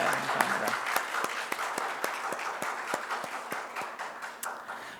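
Steady applause from a congregation welcoming a young married couple as new members during a Sunday church service, a dense continuous patter of many hands, fairly loud and sustained for the whole stretch.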